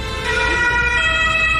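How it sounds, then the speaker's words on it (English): An ambulance siren wails loud and close in traffic, its steady tones holding above the rumble of road vehicles in a brief burst. "That's an ambulance this time."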